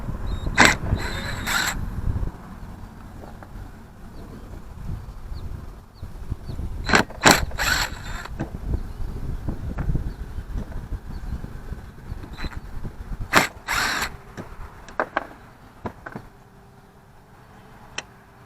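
Impact wrench loosening tight screws on the oil pump cover of a 1952 Ferguson TO-30 tractor engine during a rebuild, heard as several short ratcheting bursts spread across the stretch over a steady shop background.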